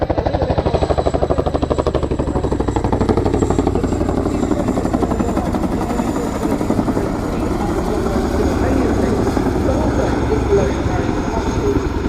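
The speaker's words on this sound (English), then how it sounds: "if you can listen closely, you'll hear the gearboxes working just a little bit" Large military transport helicopter hovering with a roughly two-ton underslung load at an air show, a steady loud rotor and engine drone with faint gearbox whine throughout, no talk heard.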